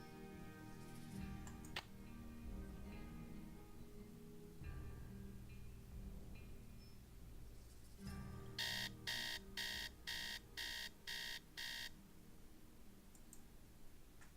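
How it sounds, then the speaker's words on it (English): Hotel room alarm clock set for 6 a.m. in the Nancy Drew game Secret of the Scarlet Hand, a run of about six sharp, evenly spaced electronic beeps over faint background music and clicks. "Alarm."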